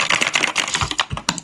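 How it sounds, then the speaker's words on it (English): Fingers clatter rapidly on a computer keyboard in dense, continuous bursts of key presses. The typing is loud and close, with no voices. "you typing the hell out of that keyboard"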